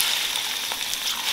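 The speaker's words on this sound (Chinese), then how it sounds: "然后把那个半肥瘦的肉先倒进来，给它爆香" Half-fat pork belly fries in a little hot oil in a wok, giving a dense, even sizzle and crackle that holds steady throughout at close range, with no voices.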